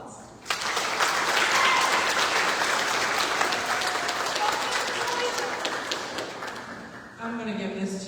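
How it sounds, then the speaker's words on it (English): County fair royalty contest audience breaks into a full round of applause for a contestant, loud continuous clapping starting abruptly and holding for several seconds, then a voice begins speaking as it ends. "Ladies and gentlemen, please give Amanda Collier a big round of applause."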